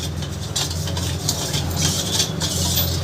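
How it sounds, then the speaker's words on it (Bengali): A spoon stirs sugar into raw mango sharbat in a glass, giving a soft, continuous scraping and swirling with faint clinks over a low steady background hum, no talk. "চিনিটা যতক্ষণ না গলে একটুখানি নাড়িয়ে নেব"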